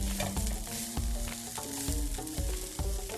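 Onions and garlic frying in a pan for spinach borani, a loud steady sizzle broken by repeated rhythmic scrapes and knocks of a utensil stirring, close up and with no talking.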